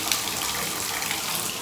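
Water gushes hard from a leaking bathtub spout with a diverter while the shower runs, a steady, close, broadband rush with no pauses and no talk.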